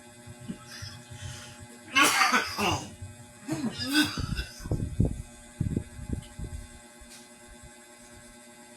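A person coughs in a few harsh bursts at close range, followed by quieter throat-clearing and muffled thumps over a low background hum, during a spoken talk.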